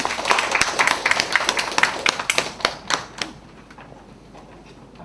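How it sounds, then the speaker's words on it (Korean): An audience at an academic conference gives short, sparse applause that welcomes the presenters: a handful of close, distinct claps that thin out and fade after about three seconds, leaving quiet room tone. "발표자가 남유진 김현수 선생님이신데 박수로 모시겠습니다."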